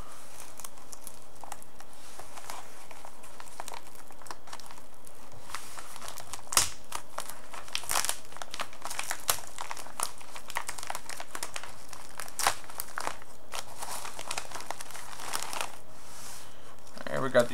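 Paper envelopes are handled and torn open while unboxing an Arduino Uno R3 kit, with close, steady crinkling and rustling plus a few sharper tearing snaps scattered through the clip.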